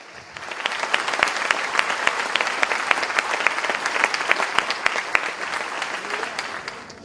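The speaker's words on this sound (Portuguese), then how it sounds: "aplaudo ao Senhor nesta manhã" A church congregation breaks into close, lively applause during a Sunday morning sermon, many hands clapping in a bright, crisp burst that rises quickly, holds strong, then fades, with no one speaking.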